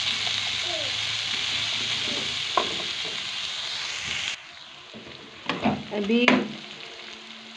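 Chopped onions sizzle steadily in a pan, softening without browning for a mixed vegetable sabzi, a dense frying hiss through the first half before it drops quieter, with clattering stirs and brief speech near the end.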